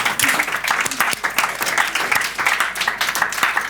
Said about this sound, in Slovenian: Tako da en lep aplavz za vse vas.